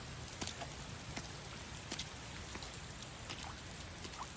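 Steady rain pours down in an anime scene, broadband hiss with scattered individual drop taps, constant and fairly close, with no talking.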